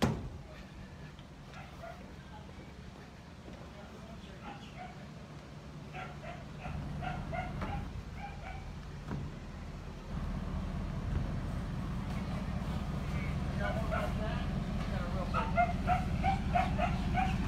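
A crowd of rescued dogs arriving from the Bahamas bark and yip repeatedly at a distance, scattered overlapping barks beneath a steady low background rumble outdoors in West Palm Beach, with people talking nearby.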